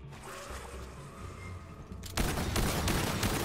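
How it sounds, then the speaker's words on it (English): Quiet ambience gives way abruptly to a loud, dense burst of gunfire and explosive blasts that keeps rumbling on, in the video game Aliens: Fireteam Elite. "Did you hear explosions just now?"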